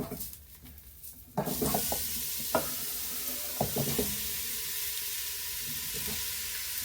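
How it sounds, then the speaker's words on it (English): Onions, carrots and celery sizzle in a stew pot as they fry, with a steady crackling hiss and a few clattering knocks from stirring, close and loud with no voices. "We're going to put in the onions, carrots, celery. Cook that about 5 minutes."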